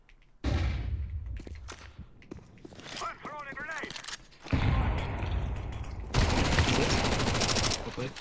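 Gunfire in a team shooter game: scattered shots and rapid bursts, some loud and close, mixed with mechanical clatter, while people talk over it.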